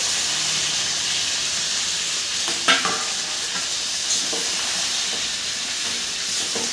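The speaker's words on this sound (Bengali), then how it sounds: "কিন্তু আমার লাল করে ভেজে নেওয়া হয়ে গেছে এবার দিয়ে দেবো শাকটা" Leafy greens fry in a pan with garlic fried until red and black cumin seeds, giving a loud, steady, close sizzle and hiss broken by a few stirring scrapes.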